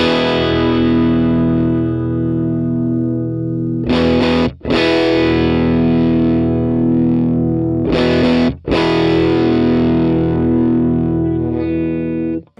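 Electric guitar through a Flower Pedals Poppy clean boost pedal with its mid bump control raised, sustained loud chords ringing out, briefly choked twice and re-struck, with no speaking.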